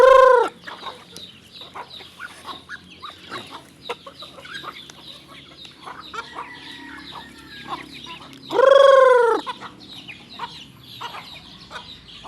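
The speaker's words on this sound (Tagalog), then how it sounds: "Siya ang sarap po magpakain ng mga manok" Backyard chickens cluck steadily while being fed in the morning, with two loud, drawn-out calls rising above the flock near the start and again partway through; no one speaks.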